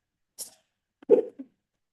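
A single close sneeze, a sharp airy burst followed a moment later by a fuller voiced blast and a small trailing catch, in an otherwise silent room.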